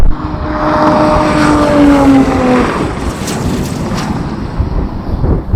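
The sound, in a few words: Nissan Z sports car accelerating in drag race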